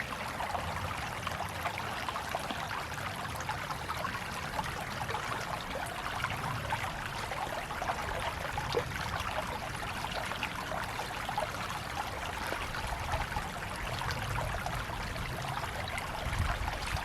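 A creek flows steadily in a Monongahela National Forest backcountry setting at Dolly Sods, West Virginia, a constant close broadband rush and trickle of water with no voices.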